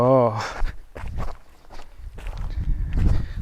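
Footsteps on a wet, muddy, slippery downhill mountain trail, with several irregular steps and scuffs close by, mixed with people talking.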